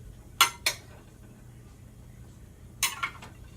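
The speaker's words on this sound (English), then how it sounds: "let's stir that around a little bit." A utensil stirring food in a pan during home cooking with tomato sauce gives a few sharp metallic clinks and scrapes in two brief clusters, separated by quiet.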